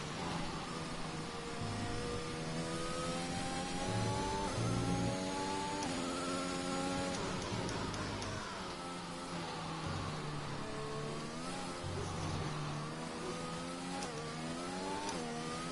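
Racing car engine in a rainy British racing video game, revving continuously with rising and falling pitch sweeps as gears change, loud and steady throughout.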